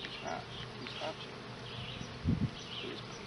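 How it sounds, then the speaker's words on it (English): A honeybee hatching and chewing its way out of its hive cell, with faint close buzzing and a brief louder low burst partway through. "Here's a bee trying to get out. He's hatched. He's hatching."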